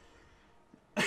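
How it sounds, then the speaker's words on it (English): A single short cough bursts out abruptly at the very end, after near-silence with only faint background noise. "Excuse my cough there."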